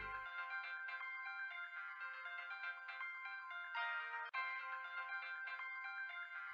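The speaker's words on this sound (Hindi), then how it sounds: "ये तो प्रिया का फोन है।" A phone ringtone plays continuously, a bright repeating melody ringing clearly with a very brief break partway through, no voices.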